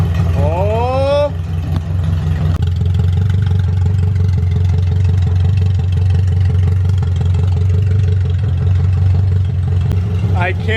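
A Honda K24 engine swapped into a Subaru Impreza runs with a steady, loud low drone, preceded by a brief rising rev and a voice near the start.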